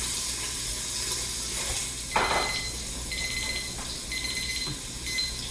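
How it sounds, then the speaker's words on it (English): Bratwurst sizzles in a one-pot quick cooker pan for an Oktoberfest meal and is turned over with a brief clatter. A steady hiss of frying continues throughout, with intermittent high electronic beeps in the background and no talking. "we're just going to flip our bratwurst"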